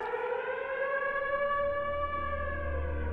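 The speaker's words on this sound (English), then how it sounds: "The siren." Civil defense siren from a Black Ops 3 Zombies video game cinematic holds a loud, sustained wailing tone with rich harmonics, slowly falling in pitch, and a low rumble building underneath.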